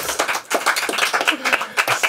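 A crowd clapping in a dense, continuous patter, loud and close, with some voices mixed in.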